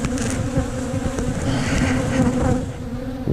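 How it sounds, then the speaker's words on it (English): Honey bees buzz densely and continuously inside a hive stacked with two supers, a close, steady, unbroken drone with no voices. "We got bees all the way to the top in this one"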